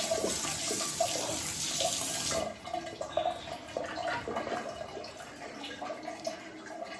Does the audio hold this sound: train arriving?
no